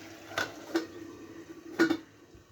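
A lid is set onto a pan of boroli fish curry cooking with potato and eggplant, giving a few light, close clinks and taps spaced over a couple of seconds against a quiet kitchen background.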